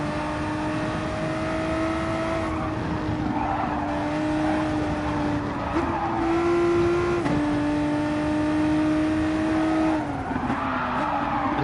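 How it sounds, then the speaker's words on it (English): Race car in a racing video game braking hard into a four-wheel slide, its engine droning at a steady pitch that dips and steps while tires hiss and squeal, continuous and close, no talk. "if I brake hard going in, the car just pitches into a four-wheel slide"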